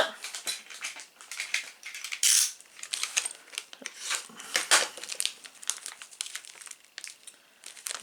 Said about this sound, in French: Je vais déballer toutes les pièces pour commencer.